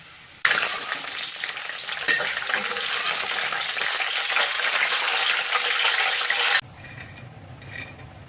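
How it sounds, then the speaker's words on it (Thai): Shallots fry in hot oil for Thai roasted chili paste, a loud, dense, continuous sizzle that starts abruptly, holds steady for about six seconds, then cuts to a quieter background with faint clinks. "เจียวหอมต่อกันเลยค่ะ"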